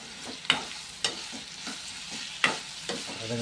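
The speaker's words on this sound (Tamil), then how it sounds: "நல்ல பொன்னிறமாக வதங்கிட்டதுக்கு இன்னும் நல்லா வதங்கணும்" Pirandai (adamant creeper) sautés in a pan until golden brown, with a soft sizzle beneath a few sharp, irregular scrapes of a spoon stirring it, close and moderately quiet.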